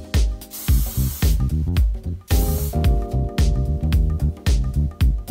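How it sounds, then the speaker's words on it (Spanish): Hair spray is sprayed onto hair in repeated short, loud hissing bursts, with rhythmic music playing underneath. "Vamos a ponerle spray."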